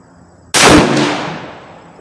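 A single loud rifle shot from a Savage 110 Tactical heavy-barrel rifle cracks sharply close by, then its echo trails off over about a second and a half outdoors.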